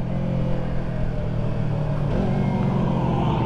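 An old truck engine rumbles past with a deep, steady drone that shifts partway through as it moves by, fairly loud and close with no talk over it.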